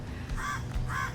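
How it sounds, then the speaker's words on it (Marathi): A crow caws twice in two short, harsh calls at the Taj Aguada fort grounds in Goa. The calls are close and clear over quiet outdoor background noise. "आता हा कावळा ओरडतोय"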